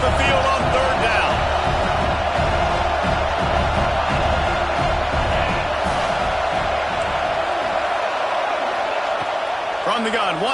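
A home crowd in the NCAA 25 college football video game keeps up a loud, continuous roar of cheering under constant play-by-play commentary.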